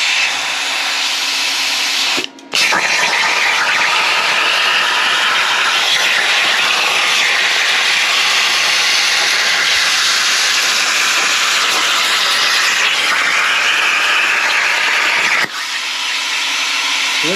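A Bestarc BTC500XP plasma cutter in CNC mode blows post-flow air, a loud steady broadband hiss running continuously for about thirteen seconds between brief clicks near the start and end.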